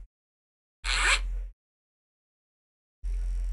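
A voice imitates a zipper during a sound-imitation party game, producing two short, breathy, raspy bursts about two seconds apart, the first with a quick rising sweep, heard alone against silence.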